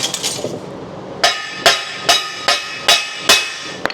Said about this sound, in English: tap it in with the hammer a little bit.